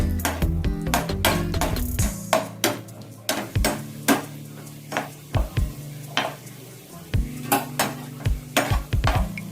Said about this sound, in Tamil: இதோட திராட்சையை சேர்த்து வறுத்துக்கலாம்.